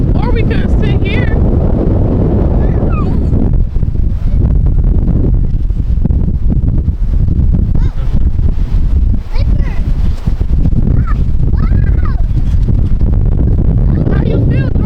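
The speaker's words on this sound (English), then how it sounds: "It's just windy, right?" Strong wind buffets the microphone at Galveston beach, a loud constant rumbling roar that swells and gusts throughout, with people talking faintly underneath.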